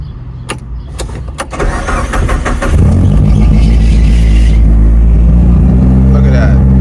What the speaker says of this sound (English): All right, see what the cold start look like.